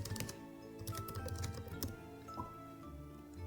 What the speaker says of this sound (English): So you can type in